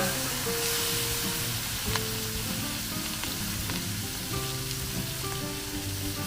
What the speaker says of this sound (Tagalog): Tapos ay ilagay po natin yung ating hipon.